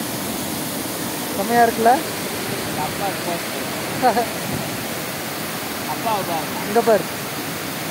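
Waterfall on a village river pours in a steady broadband rush throughout, with several short bursts of people talking over it.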